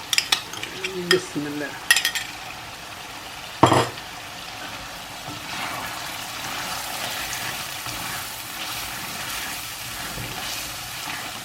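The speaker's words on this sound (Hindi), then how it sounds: "ये मैं दही डालने लगी जो मैंने 2 टेबल स्पून फेंट कर रखी थी।" Whisked yogurt goes into a ginger chicken karahi and is stirred through, with a few sharp spoon knocks against the pot and then a soft, steady sizzle; someone says a brief word near the start.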